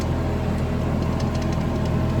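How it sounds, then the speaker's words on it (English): A small 32 horsepower tractor pulls a fertilizer spreader across a field, its engine a loud, close, steady low drone with a rapid thumping pulse and rattling vibration, no talk. "This is like a 32 horse tractor or something like that, so it's not a big powerful tractor."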